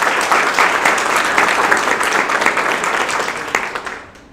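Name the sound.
audience clapping for graduate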